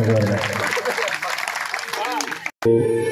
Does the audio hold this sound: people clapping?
yes